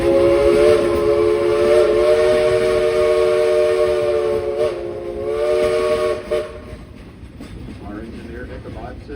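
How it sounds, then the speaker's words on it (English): A steam train whistle blows a long, loud, steady blast, breaks briefly, then sounds again, with hissing steam and voices in the background, on a tourist railway ride. "we'd like to give a couple of train whistles in your honor"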